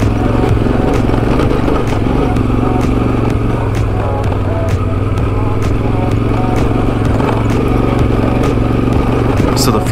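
A motorcycle rides in second gear along the Trans-America Trail, its engine droning loud and steady with rough, continuous rumble throughout, up close with no talk.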